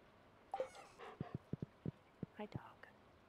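A dog in a relaxed home setting makes soft, short sounds in a quick irregular series of faint taps and small huffs, close by, with quiet whispering around it.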